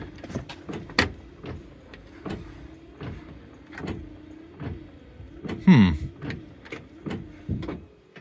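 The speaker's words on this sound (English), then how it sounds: "Oh, there we go. Wipers are working." Windshield wipers on a 1964 Buick LeSabre sweeping back and forth in a regular rhythm, each pass a squeaky motor whine with a thump at the end, close and fairly loud, with a louder clunk near the end.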